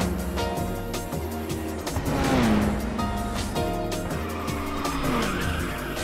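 Race car drifting in Ridge Racers 2 on PS5, with a droning engine and long tire squeals sweeping through the corners, loud and continuous without speech.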